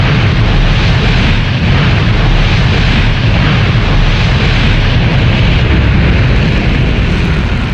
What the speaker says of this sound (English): The MiG-19 mounted on a mobile launch site was virtually shot into the sky with the help of a powder booster.